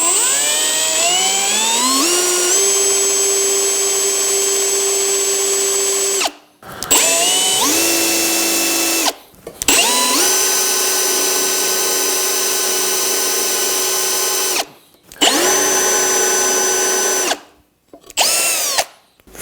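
A power drill whines loudly in several long bursts while drilling a hole in wood, its pitch climbing as it spins up and dropping as it bites in, with brief silent pauses between runs.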